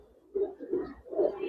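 Domestic pet pigeons coo in a few soft, rounded, throaty pulses, close and fairly quiet, with no talk over them.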